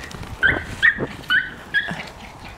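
A dog outdoors on a farm gives four short, sharp yips at a steady pace, moderately close and fairly quiet against faint background noise.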